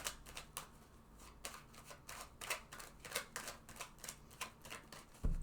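Tarot cards shuffled and drawn, a quick series of crisp riffles and snaps at an irregular rhythm, close and fairly quiet, with a soft thump at the end.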